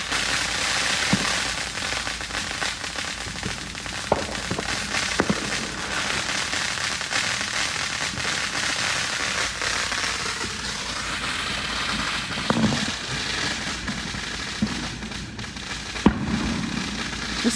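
Fourth of July fireworks crackle and pop continuously, with scattered sharper bangs on top of a dense, sustained roar of small explosions heard from a moderate distance.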